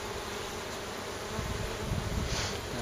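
Honeybees on the porch of a hive, fanning their wings on a hot day to cool it, make a dense, steady buzzing drone close by with no talk.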